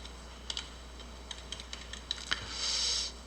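JavaScript code being typed on a computer keyboard, a quiet run of light, irregular key clicks with a short burst of faster tapping near the end, close and alone.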